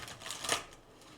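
Tarot cards get one brief, quick shuffle, a soft papery riffle that peaks for an instant and fades, heard up close in a quiet room with no speech.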